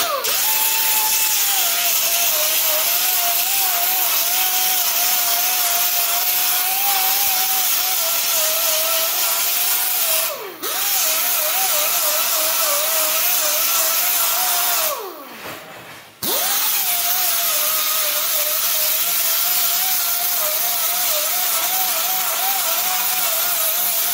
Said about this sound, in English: I'm just going to take the grinder and lightly knock the heads off of that to make it nice and smooth